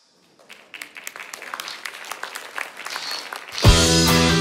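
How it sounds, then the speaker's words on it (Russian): Concert audience applause starts from silence and builds into sharp, uneven clapping, then a loud music intro cuts in and covers it near the end. "Это нашему городу аплодисменты"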